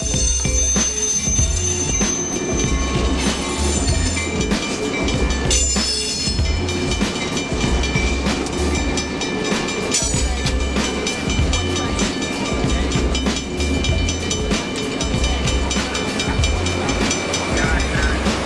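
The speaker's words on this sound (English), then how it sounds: "Seen here are these two SD50-2s, number 5014 and 5017, which had been working the area that day and were just marshaling themselves out of the way" Two SD50-2 diesel locomotives move along the rails with a continuous rumbling diesel drone, rolling wheel noise and intermittent metallic squeals, steady and fairly close throughout.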